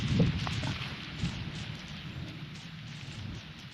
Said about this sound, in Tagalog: nabutas na naman ang langit. Naulan na naman.